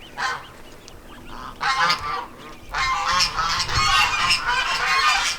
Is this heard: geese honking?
yes